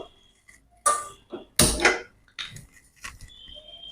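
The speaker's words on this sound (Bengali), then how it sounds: "এবার আমি গ্যাসটা ধরিয়ে দেবো" A kitchen gas stove is lit before cooking a fish curry with yam: a couple of sharp igniter clicks, then a short loud burst as the burner catches, close by with no talking.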